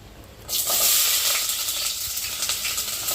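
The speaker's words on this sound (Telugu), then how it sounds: "నూనె అయితే వేడెక్కింది, ఎర్రగడ్డలు అయితే వేసుకున్నాము" Sliced onions drop into hot oil for a meal maker biryani and burst into a loud, close sizzle that holds steady and bright, with faint stirring crackles throughout.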